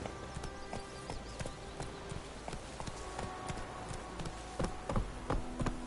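Hooves of the horse Roach clatter in a quick galloping clip-clop rhythm in a video game, a steady run of close, sharp impacts with a few louder hits near the end.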